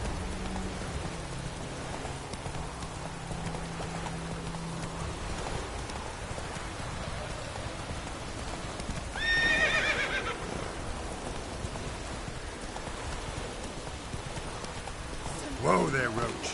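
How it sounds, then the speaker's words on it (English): Hoofbeats of the horse Roach clip-clop steadily in The Witcher 3 amid a rain-like wash, with a loud neigh midway and another whinny near the end, and a voice briefly over the scene. "Whoa there, Roach."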